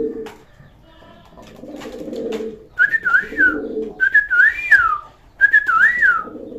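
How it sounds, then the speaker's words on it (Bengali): A male pigeon in a loft with racing pigeons coos up close: low throaty coos first, then three bright, warbling whistled calls in quick succession. "দেখুন কত সুন্দর ডাকতেছে নর কবুতরটা"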